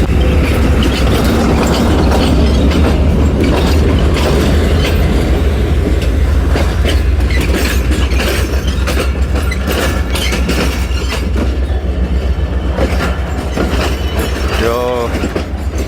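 The Karachi Express passenger train rumbles loudly and continuously through Rohri station, with rhythmic clickety-clack of wheels over rail joints and a brief squeal of wheels near the end.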